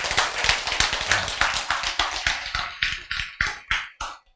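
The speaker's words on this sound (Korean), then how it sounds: "박수! 예!" A congregation at a sermon claps in a quick run of sharp, evenly spaced claps, each ringing briefly in the room. The bursts grow sparser and fade out within a few seconds.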